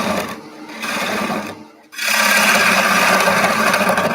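Wood lathe spinning as a gouge cuts into a bowl blank, removing the center: a steady, close, broadband scraping whir that briefly drops away near two seconds, then returns louder and continuous.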